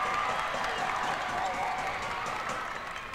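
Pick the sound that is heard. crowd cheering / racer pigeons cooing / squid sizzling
crowd cheering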